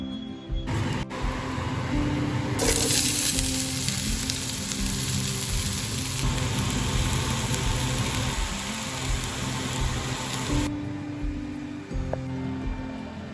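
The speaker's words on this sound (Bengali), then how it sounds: "চিকেন বানানোর জন্য তেল দিয়ে দিলাম, আগে আলুটা ভেজে দেবো" Potato pieces fry in hot oil as the first step of a chicken curry, a steady close sizzle that swells louder through the middle and carries on without talk.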